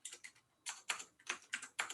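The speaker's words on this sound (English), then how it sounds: "typing is hard." Computer keyboard typing during a live Python coding talk, with quick clusters of crisp keystrokes in an uneven rhythm, close and clear, with no speech.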